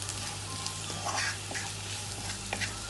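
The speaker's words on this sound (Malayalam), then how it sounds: "ഇത്തിരി പെരുംജീരകത്തിൻ്റെ പൊടി ഇട്ടിട്ട് നമ്മൾ മിക്സ് ചെയ്തെടുക്കാം" Prawns chilli fry sizzling in a pan as fennel powder is stirred in, a quiet steady crackle with light scraping touches and no talking.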